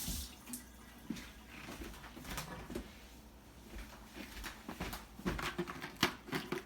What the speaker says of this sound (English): Always wash your hands.